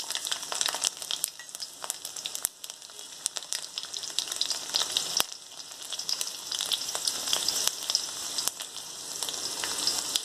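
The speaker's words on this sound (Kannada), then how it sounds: "ಈಗ ನೆಕ್ಸ್ಟು ಬೆಳ್ಳುಳ್ಳಿ ಹಾಕ್ತಾಯಿದ್ದೀನಿ." Garlic frying in oil for a Karnataka brinjal gojju, a steady dense crackle and sizzle with scattered sharper pops throughout, close and fairly loud with no voices.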